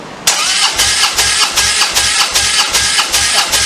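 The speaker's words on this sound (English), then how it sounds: "our trusty assistant will once again turn over the motor for me" A Harley-Davidson Softail Slim V-twin cranks over during a compression test with the ignition on, clutch in and throttle open, its starter churning loudly in a steady rhythmic pulse of about three beats per second without catching.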